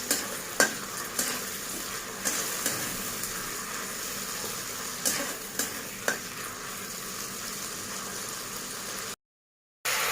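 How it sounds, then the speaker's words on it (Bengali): Fish frying in hot oil in a pan gives a soft, steady sizzle, broken by a few sharp clinks and scrapes of a utensil stirring, with no voices. "মাছগুলো ভাজা হয়ে গেছে, আর মাছগুলো তুলে নিচ্ছি।"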